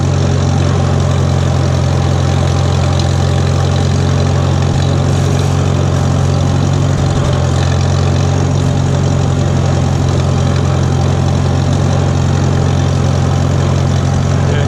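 A 1941 Farmall H antique tractor engine runs at a steady, loud idle, its low, even throb continuing unbroken for the whole stretch without any talk.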